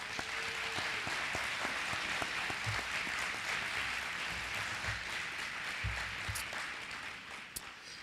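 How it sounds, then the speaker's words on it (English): A graduation audience claps for the graduates in a dense, sustained round of applause that fades slightly toward the end, with a few faint voices mixed in. "How about a round of applause for our graduates?"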